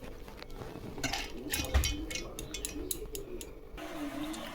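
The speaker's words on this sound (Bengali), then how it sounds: "ডালটা ভিজিয়ে রেখেছিলাম, জল ঝাড়িয়ে নিয়েছি, এবার বেটে নেবো ডালটা" Soaked, drained khesari lentils are ground for fritters, producing a coarse, rhythmic scraping and grinding in repeated strokes over a steady low hum. The grinding is moderately loud and close, with no voices.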